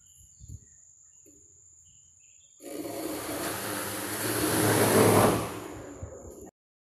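A Raspberry Pi Zero-driven quadcopter on a KK 2.1.5 board arms, then its motors spin up from idle into a loud whirring roar, swell to a peak and ease off before cutting out abruptly, after a few faint beeps and clicks.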